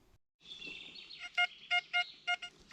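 A metal detector gives short, bright electronic beeps, five or six in quick succession after a brief warbling tone, close and clear against near silence in a forest.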